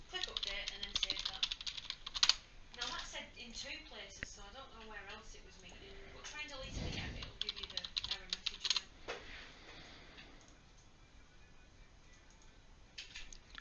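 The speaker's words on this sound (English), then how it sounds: "I'm going to be a little bit mischievous and type in a question rather than click an option that he's given." Someone types a question on a computer keyboard, with quick irregular clusters of key clicks and rattles; a person talks over part of the typing.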